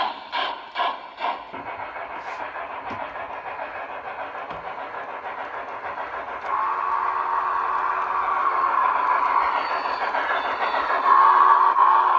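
A small Broadway Limited Paragon 4 FEF-3 844 model steam locomotive with DCC hums and clicks along its layout track, starting quietly after a few brief knocks and growing a little louder as it runs steadily.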